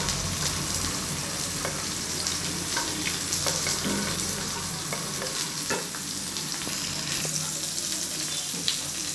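Mustard seed tempering fries on a low flame, a steady dense crackle and sizzle with faint scattered pops and occasional stirring clinks, continuous and close.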